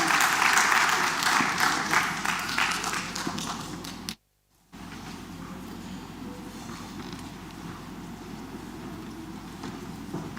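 Applause greets opera singers at a gala evening, a thick wash of clapping from a large audience that cuts out briefly, then returns as a softer, steadier round of claps.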